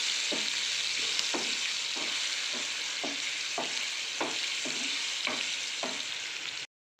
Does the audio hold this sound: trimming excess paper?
no